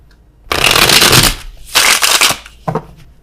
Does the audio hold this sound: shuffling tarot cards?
yes